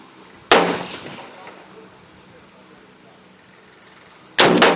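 Two sharp, loud gunshots at a shooting range, fired at balloon targets, separated by a few seconds with ringing decay after the first; no speech during the shots.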